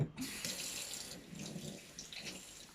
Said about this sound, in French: je vais vous montrer dans le fond, je vais mettre de l'eau